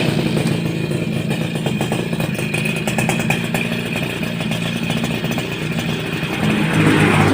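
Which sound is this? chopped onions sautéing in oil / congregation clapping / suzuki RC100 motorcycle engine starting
suzuki RC100 motorcycle engine starting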